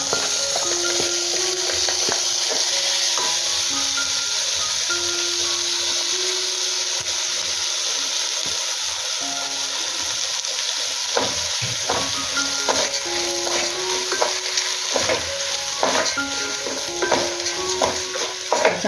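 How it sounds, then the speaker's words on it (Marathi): Rice being sautéed in ghee in a pan for Malvani-style prawn biryani with cloves, black pepper and cinnamon, a continuous close sizzle with repeated stirring and scraping, no talking. "तांदूळ टाकते आणि तुपावर जरा परतवून घेते राईस"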